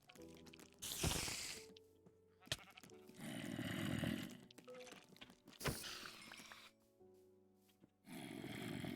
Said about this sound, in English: there is a sheep.